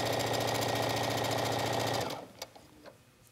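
A sewing machine runs steadily, stitching t-shirt knit fabric toward the hem for about two seconds, loud and close, then stops, leaving quiet handling noises.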